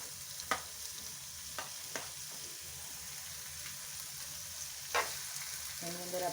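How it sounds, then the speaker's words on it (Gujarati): Onion sizzling in melted butter in a pan, a steady soft fry with a few sharp clicks of a spoon stirring against the metal, close and alone. "અત્યારે આપણે ડુંગળી, ટામેટા અને કેપ્સિકમને સાંતળવાના છે, તો પહેલાં આપણે એની અંદર ડુંગળી એડ કરી દઈશું"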